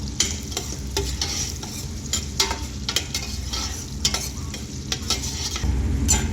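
Mixed vegetables stirred and fried in a pan while chicken biryani is made, a continuous close sizzle broken by repeated scraping spatula strokes.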